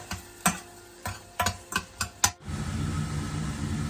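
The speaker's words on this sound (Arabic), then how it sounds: "هنا هسه انا ضفت البصل وهنا الثوم، هنتظره شوي ينحمس" Onion and garlic fry in a pan, with a series of sharp clicks and taps from stirring in the first half, then a steady soft sizzle takes over, nearby and fairly quiet.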